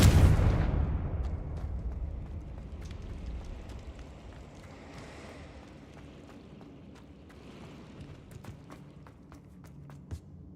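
A Confringo blasting spell explosion in the Hogwarts Legacy video game, a heavy rumbling boom at the start that slowly decays into a low roar, followed by scattered sharp clicks and thuds.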